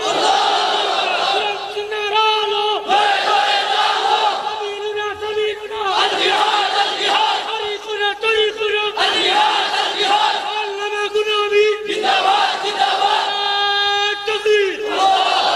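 A large religious gathering at a Bangladeshi mahfil roars back in unison after a takbir call, loud massed chanting rising and falling in several long waves with a few breaks between them.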